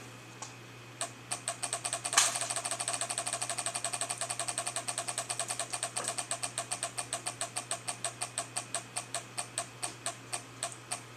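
Wheel of Fortune video game wheel spinning, a rapid run of clicking ticks past the pegs that gradually slows and spaces out toward the end, over a steady low hum.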